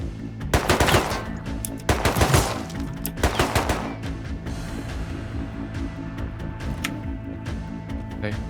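Automatic gunfire in the survival game Rust comes in three loud, close bursts within the first four seconds, followed by quieter in-game ambience and scattered distant shots.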